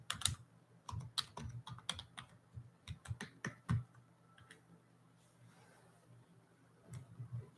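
Someone types a password on a computer keyboard, quiet irregular clicks and taps in quick bursts, then a few scattered keystrokes trailing off over low room hum.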